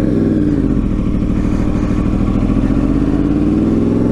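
A Yamaha R1 RN22 sport motorcycle engine runs loud and close, a continuous rough rumble with a slight rise and fall in pitch.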